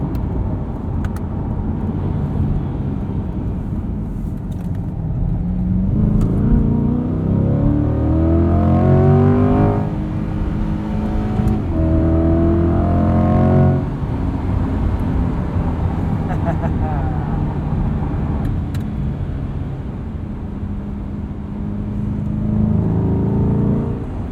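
A 2021 Chevrolet C8 Corvette Z51 with the Performance Package accelerates hard up a highway entrance ramp. The engine note climbs through the gears in several rising sweeps, loud and close from inside the cabin, with a voice faintly present.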